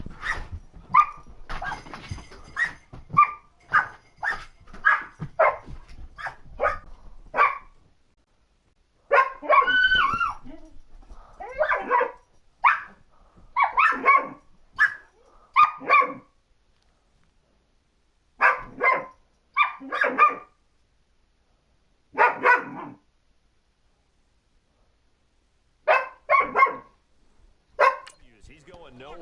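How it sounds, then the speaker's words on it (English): A dog barks repeatedly in loud, close bursts over about half a minute, with yips and whimpers mixed in, while a person talks at times in between during a live game broadcast. "sorry for that barking, you guys."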